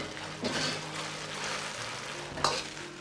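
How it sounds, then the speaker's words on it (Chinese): Fried eggs are stir-fried quickly in a thickened sweet and sour sauce, giving a loud, continuous bubbling sizzle with a few sharp spatula strikes against the wok, close up and without talk. "快速的翻炒均匀，炒成酱汁。"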